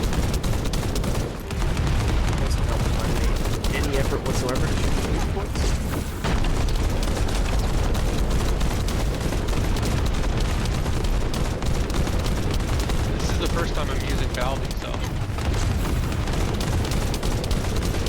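Dense, continuous gunfire and booming blasts from a firefight in The First Descendant, a sci-fi shooter battle at the Molten Fortress, filling the whole stretch with rapid bursts and heavy impacts; a voice occasionally speaks over the din.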